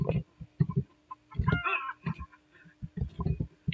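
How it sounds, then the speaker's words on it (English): Chickens clucking in the 1997 video game Redneck Rampage, a string of short, close, choppy clucks and squawks repeating irregularly throughout, loud and alone with no talk over them. "Chickens."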